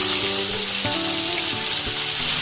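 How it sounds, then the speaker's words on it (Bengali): Sardines coated in salt and turmeric fry in hot oil in a wok, giving a steady, close hiss of sizzling with a few faint clinks, and no talking. "এবার আমি মাছগুলো ভেজে নেব"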